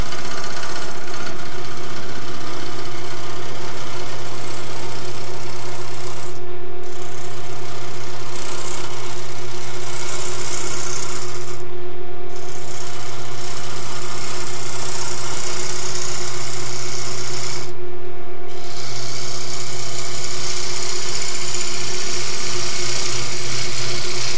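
A loud, steady lathe drone with a rough scraping hiss of carbide turning tools cutting an oak bowl, briefly dropping out three times before resuming.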